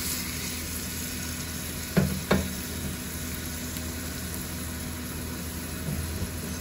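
Onions frying in oil for a Lahori-style mutton palak, giving a steady close sizzle with two brief stirring clicks early on and no talking.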